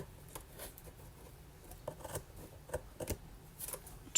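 Scissors snipping paper to trim it for a box cover, a series of soft, irregular cuts close by over faint background rustle.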